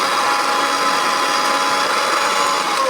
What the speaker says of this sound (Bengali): প্রথমে আমি এখানে এক জার পাউরুটি নিয়েছি এখন এটা ভালোভাবে ব্লেন্ড করে নেব